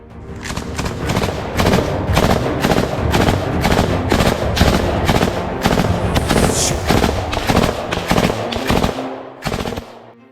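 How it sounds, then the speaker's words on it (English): Near Chasiv Yar, FPV drone attack explosions and rapid bangs crackle in dense, continuous bursts, loud and close, before thinning out at the very end. "explosions tore through the area around them"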